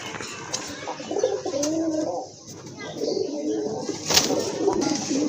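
A pair of pigeons coo close by in a market stall, soft rolling low calls repeating in short phrases, with faint background murmur and a brief sharp click near the end.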